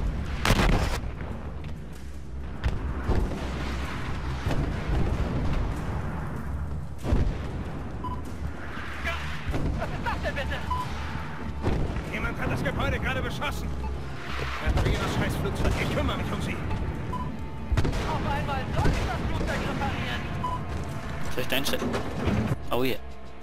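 Tank cannon fire and heavy explosions in the video game Battlefield Hardline, with repeated loud booms over constant battle noise while someone talks over it throughout.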